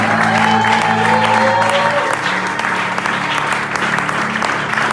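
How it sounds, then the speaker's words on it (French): A church congregation applauds and cheers, a steady loud wash of clapping with crowd voices and a sustained tone running underneath for the full stretch. "Est-ce que quelqu'un peut acclamer pour Jésus?"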